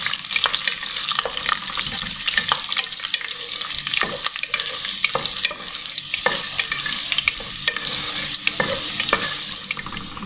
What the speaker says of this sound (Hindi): थोड़ा सा अखरोट, इसको थोड़ा सा फ्राई कर लेते हैं।